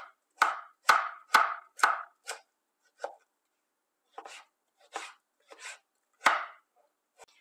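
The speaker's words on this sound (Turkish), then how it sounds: "Bunları da orta irilikte küp küp doğruyorum." A knife chops a peeled tomato into medium cubes on a board, about a dozen crisp, distinct strikes, a fast run first, then sparser cuts with short pauses, close and clear, no voices.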